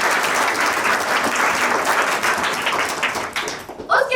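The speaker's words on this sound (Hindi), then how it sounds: "सर के लिए एक बार जोरदार तालियां" Loud, dense applause from an audience at a teacher's retirement function, sustained for about four seconds before thinning out at the end.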